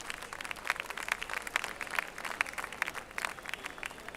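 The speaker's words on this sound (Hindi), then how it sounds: "जोरदार तालियों के साथ आप इस लोकार्पण समारोह में शामिल हो सकते हैं।" An audience at a college award ceremony at Shivaji College applauds, a dense crowd of hands clapping at a steady, moderate pace, heard from some distance and fairly faint, with no voices over it.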